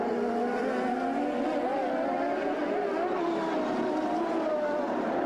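CART race cars braking on the Detroit street circuit in 1996, loud high engine whine with shifting, falling pitch as the cars slow, a continuous roar of several engines.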